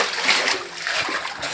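Water splashes steadily as someone wades through a stream at an ancient petrified-tree site, with close, continuous sloshing and spattering and no clear speech.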